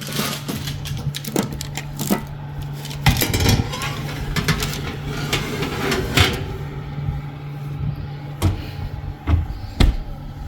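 Chicken nuggets dropped into a pan to cook, a series of sharp clunks and taps over a constant hum and sizzle, with sporadic louder knocks throughout.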